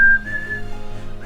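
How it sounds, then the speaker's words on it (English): A person whistles a short tune, a clear sustained note that breaks into a few quick wavering pitches, close and alone with no talking. "I just like the whistling."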